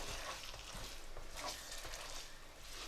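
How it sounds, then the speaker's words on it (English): Minced meat sizzles steadily in a hot pan, a constant crackling hiss with occasional soft stirring scrapes. "So a splash of water, and continue frying for a minute or so."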